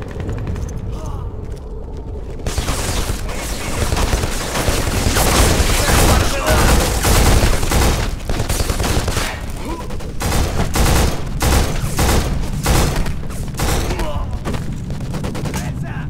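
Relentless heavy gunfire from the 2006 shooter video game BLACK running on a PS2 emulator, with dense overlapping rapid bursts and explosive impacts, loud and nearly continuous, under occasional radio chatter.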